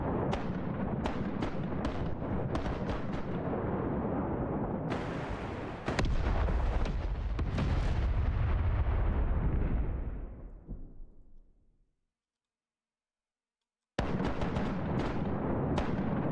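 Ship cannons fire at a target in a pirate sailing video game, a rapid series of booming shots followed by a heavy rumbling barrage that fades into a couple of seconds of silence before more firing resumes.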